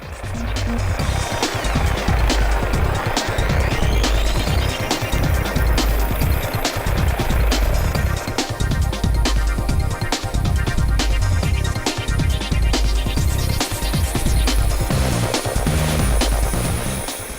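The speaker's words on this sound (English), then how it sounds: "Then the helicopter shows up." A helicopter arrives for a dog loading drill, its rotor chopping loudly and continuously up close with a dense, pulsing thump and turbine whine throughout.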